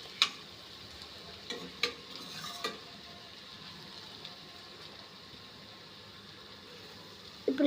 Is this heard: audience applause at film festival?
no